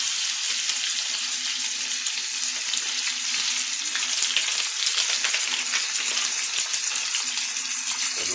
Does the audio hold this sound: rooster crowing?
no